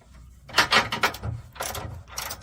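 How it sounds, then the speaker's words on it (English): Socket and wrench loosening the bottom frame nuts on a wagon, a few close ratcheting clicks and metallic rasps in short bursts with brief pauses between turns. "we're going to loosen these two bottom frame nuts"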